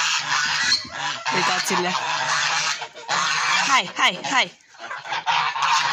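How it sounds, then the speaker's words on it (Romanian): A small flock of domestic geese, three whitish birds and one dark goose, honk loudly and repeatedly in a farmyard, with overlapping nasal calls running through the clip while a person speaks briefly nearby. "Din acelea 3 albicioase, una este gâscă, 2 gâscani și aceea neagră de lângă ele este gâscă."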